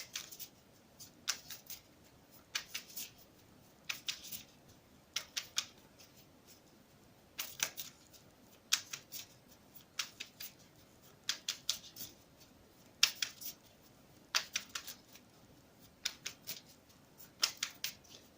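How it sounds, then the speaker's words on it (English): Oracle cards from a love oracle deck being drawn and shuffled, a steady run of crisp paper snaps and flicks repeating every second or so, close and fairly quiet with no talking. "We're going to draw out some cards from the Love Oracle for you."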